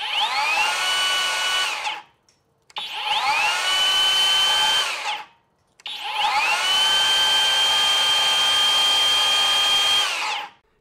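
Skilsaw 7-1/4 inch TrueHVL cordless worm drive circular saw spinning up with a loud whine, then its blade brake cutting the sound off abruptly, repeated three times with short silences between, close and alone.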